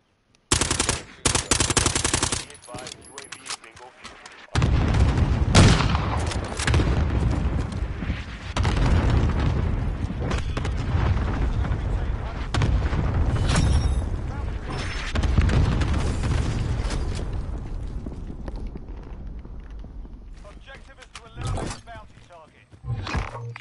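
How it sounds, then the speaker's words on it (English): Video game battle with airstrike explosions: heavy, sustained booming and rumbling blasts mixed with rapid gunfire, loud and close, after a short burst at the start and a brief lull. "Marking airstrike target."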